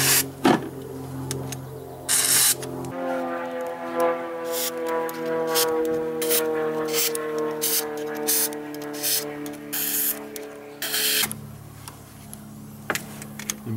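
Compressed air blasting oil out of blind bolt holes during oil cooler removal on a Ford 6.0 Powerstroke diesel, several sharp hissing bursts of varying length over a background of steady tonal machine hum.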